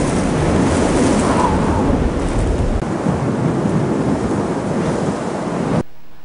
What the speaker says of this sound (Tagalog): Napakalakas na hangin.